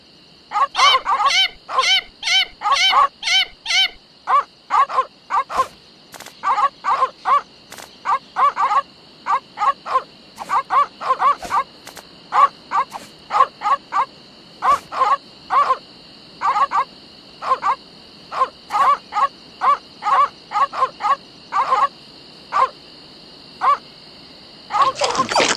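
Dogs in a Monkey Island video game bark and yip in quick repeated bursts over a steady synthetic tone, the rhythmic yaps continuing with short pauses throughout, with no talk over them.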